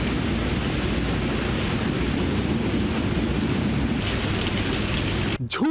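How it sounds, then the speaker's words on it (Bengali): Heavy rain pours down in St. Vincent in the West Indies, a dense, continuous roar of drops at constant loudness with a low rumbling undertone, broken by a brief disturbance just before the end. "ঝুম বৃষ্টি, সেন্ট ভিনসেন্টের আকাশের মন ভালো নেই।"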